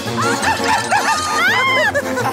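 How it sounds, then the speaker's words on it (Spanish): A dog yips and whimpers in quick, high-pitched bursts amid an excited chase, with voices and busy background noise around it. "¡Ese perro no es mío!"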